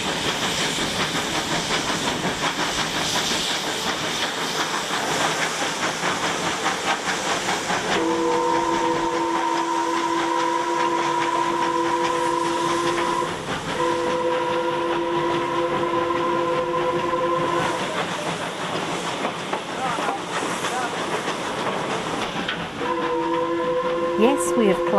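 A steam train climbs on the Lima to Huancayo railway in Peru, its steady hiss and rumble running throughout while the steam whistle sounds in several long, clear blasts midway and near the end.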